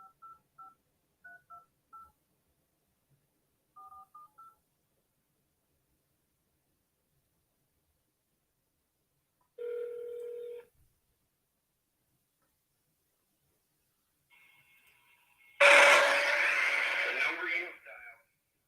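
A phone call being placed: clusters of quick touch-tone keypad beeps, then a ringback tone, a pause, more tones, and finally a burst of loud, noisy sound from the line.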